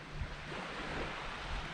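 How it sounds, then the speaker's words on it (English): Wind and surf wash over a small secluded beach on the coast, a steady broadband rush with soft wave swells and no voices. "here we are at this little secluded beach. And the wind's not too bad"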